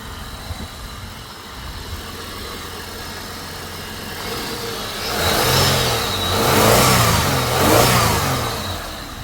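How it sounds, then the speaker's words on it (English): A Holden VX Commodore V6 revs with a mid-range engine note that climbs and falls in several swells, getting louder toward the end, with no talking over it. "And they're a pretty potent V6 engine."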